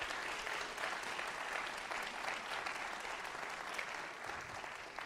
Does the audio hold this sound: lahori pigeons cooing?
no